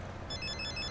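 A phone rings in a Hindi-dubbed South Indian film, a short bright electronic trill of repeating high beeps that starts a moment in and continues steadily over a low room hum.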